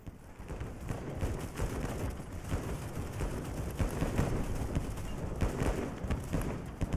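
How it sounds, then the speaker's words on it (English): Enemy rifle fire rattles in dense overlapping volleys across a World War I trench battlefield in the game Over The Top: WWI, keeping up a continuous loud crackle with no pauses. "I can hear him firing."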